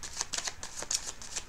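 Playing cards being shuffled up close, a quick run of crisp riffling flicks and soft slaps with no voice.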